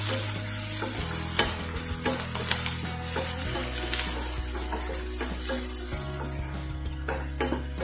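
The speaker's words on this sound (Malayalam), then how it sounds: "ഇനി അതുകൂടെ നമുക്ക് ഇതിലേക്ക് ചേർത്ത് കൊടുക്കാം. നന്നായിട്ടൊന്ന് വഴറ്റിയെടുക്കാം." Chopped onion sautés in a hot pan, sizzling steadily while a spoon scrapes and stirs with intermittent knocks against the metal.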